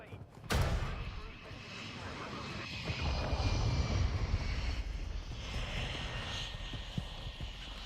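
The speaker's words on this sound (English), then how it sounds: "No way did you guys quit because a VTOL showed up." A VTOL aircraft passes in Modern Warfare 2, a sudden loud burst followed by a sustained engine roar and rumble that swells and fades, with talking over it.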